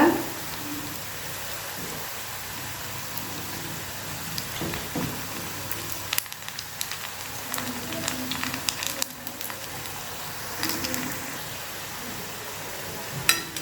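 Gram flour bondas frying in hot oil on a stove at medium flame, giving a steady rain-like sizzle and crackle with scattered pops, close and continuous throughout.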